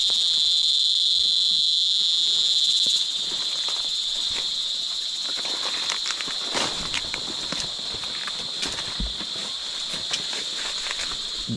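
Crickets chirp loudly at night in a continuous shrill drone that eases slightly after a few seconds, with soft rustles and taps beneath it and no one speaking.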